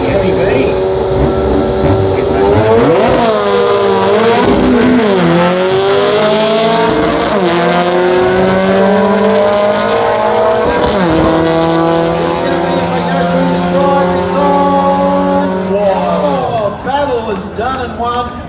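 Loud race cars at a drag racing jamboree scream down the strip, engines revving up through repeated gear shifts with a sustained high-pitched roar close by, filling the whole stretch continuously.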